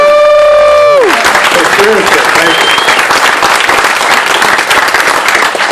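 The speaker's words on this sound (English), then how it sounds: "Let's give Vivek another round of applause." Loud, dense applause from an audience at a Kings reception swells in after a brief tonal sound and holds steady, with a speaker's voice over it.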